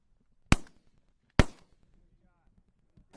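Shotgun blasts while hunting Canada geese and mallards outdoors, two loud sharp reports about a second apart followed by a third at the end, each with a short fading tail and faint voices between.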